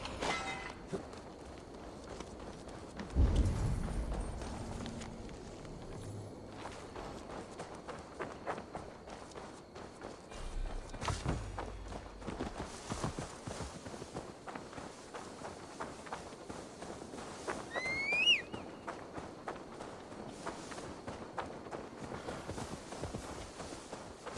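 Horse hooves walking in the video game Assassin's Creed Valhalla, producing a soft, steady clip-clop with a few louder thuds over a quiet ambient background.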